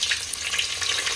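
Hot oil with a bay leaf sizzling in a pan as tempering for khichdi rice, a brief, close, even hiss with fine crackle and no voices.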